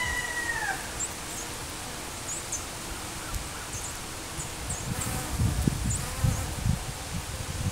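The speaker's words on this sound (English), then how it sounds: "the honeybees just all wake up and start drinking right away" Faint honeybee buzzing over a soft outdoor hiss in cold weather, with occasional rustling and a few distant bird chirps; no one speaks.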